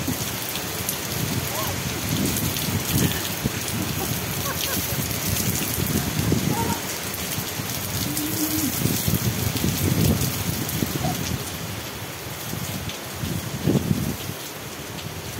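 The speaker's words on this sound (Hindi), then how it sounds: "ज़ोरों से बहुत तेज़ बारिश हो रही है" Heavy rain pours steadily, dense and loud, with scattered louder drops and splashes on surfaces throughout.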